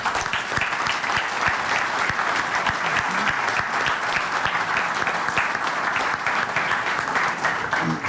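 A large audience at a panel discussion on the Macedonian economy and EU and NATO membership gives a big, sustained round of applause, a dense steady patter of clapping with no break.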